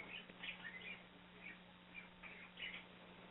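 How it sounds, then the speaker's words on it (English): Faint, high bird chirps and whistles repeat in short bursts every half second or so against a quiet indoor hum. "I hear a freaking bird whistling"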